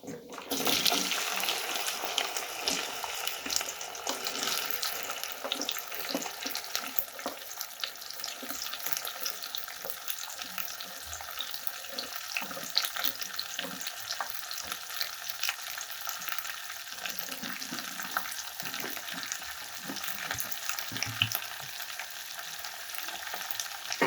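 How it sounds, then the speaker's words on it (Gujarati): Okra and asafoetida sizzle in a hot pan over cumin, a steady broadband frying hiss with occasional stirring scrapes, close and continuous for the whole stretch with no talk. "આપણે એમાં થોડી હિંગ એડ કરી દઈશું અને આપણે ભીંડાને પણ આપણા એડ કરી દઈશું આમાં"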